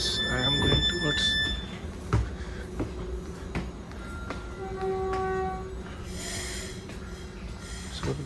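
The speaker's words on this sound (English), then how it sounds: "This is southbound local train 130" A southbound local commuter train bound for San Jose runs with a steady rumble, tonal hums and a horn-like tone, plus brief alarm-like beeps and clunks, heard from on board.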